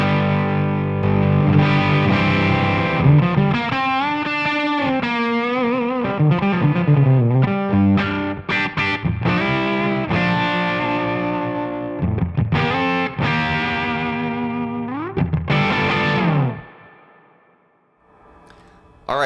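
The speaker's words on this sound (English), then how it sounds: "The Greer Lightspeed is probably one of the most malleable and friendly overdrive pedals I've ever played" Electric guitar played through a Greer Lightspeed overdrive pedal, a loud, continuous distorted tone with sustained chords and single-note lines, ending in a brief pause.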